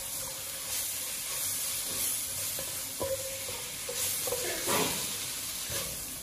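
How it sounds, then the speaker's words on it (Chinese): Green peppers for tiger-skin peppers are stir-fried in a wok over low heat after chicken bouillon goes in, giving a steady close sizzle with intermittent scraping and tossing clinks, and no voices. "鸡精下锅之后，我们就要转小火翻炒，让辣椒全部都吸收它们的鲜味"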